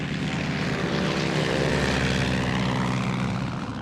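Steady drone of a Swordfish biplane's propeller engine in flight, a continuous loud hum holding level throughout with no pauses.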